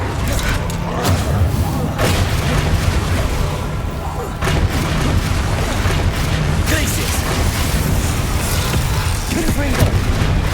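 Confringo fire-spell blasts from Hogwarts Legacy gameplay, a dense, loud wall of booming explosions and thumping impacts that runs almost without a break, with a shouted voice casting over the din.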